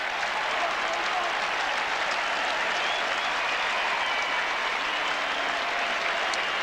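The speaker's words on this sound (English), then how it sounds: "Justin Blumfield will get a very warm round of applause as he comes off" A large stadium crowd at the 2000 AFL Grand Final, Melbourne versus Essendon, claps in sustained, even applause for a departing player, a dense wash of distant hand claps.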